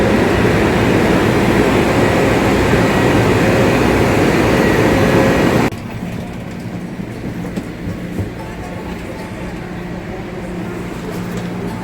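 Haramain high speed train running between Makkah and Madinah produces a steady loud rushing roar with rail rumble, then drops abruptly to a quieter interior hum with faint clicks.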